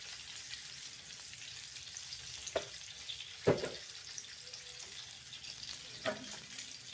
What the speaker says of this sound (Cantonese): 呢個魚腩啊，要煎翻啲油出嚟